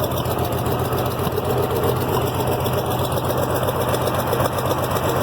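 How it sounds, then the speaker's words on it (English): An IH Farmall 706 tractor engine idles steadily with a miss and some top-end engine noise, a continuous close mechanical chug with no talk over it. "it's got a miss. It's got, you know, some top engine noise."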